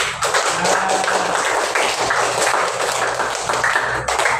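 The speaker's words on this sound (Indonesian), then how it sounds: "ya tepuk tangan" A group claps together in a brisk, continuous patter of overlapping hand claps, loud and close, keeping up evenly from start to finish.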